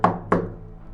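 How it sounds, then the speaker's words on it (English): Two sharp knocks on a wooden front door at a house porch in bitter winter, close and fairly loud, spaced about a third of a second apart, with a short fading resonance after each. "I knocked again."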